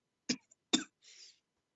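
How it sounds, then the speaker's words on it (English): Two sharp coughs in quick succession, followed by a short breathy throat-clearing rasp, close and fairly quiet. "Cough, I've got a cough."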